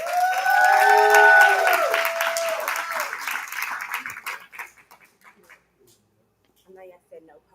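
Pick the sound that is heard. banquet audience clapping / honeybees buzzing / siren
banquet audience clapping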